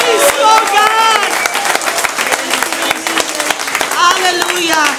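A congregation applauds loudly at a Christmas cantata, its crowded clapping running continuously under a voice that speaks and exclaims over it.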